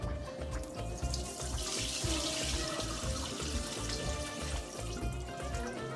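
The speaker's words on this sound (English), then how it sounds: "rinse it until the water runs clear" Rice is rinsed by hand in a kitchen sink under a running tap, a steady close wash of splashing water with soft, rhythmic swishing and clunks from below for Persian rice. No one speaks.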